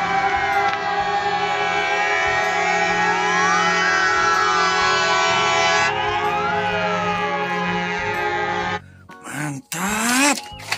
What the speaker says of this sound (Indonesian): Wow, ada pemadam kebakaran